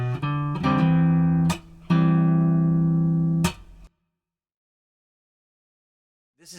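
Clean guitar plays the intro riff of a song, two ringing chord phrases separated by sharp muted strums, then silence, close and clear with no talking.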